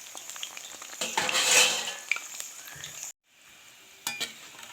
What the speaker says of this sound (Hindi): इसी तरह से हम लोगों को हल्का आग में पकाना है।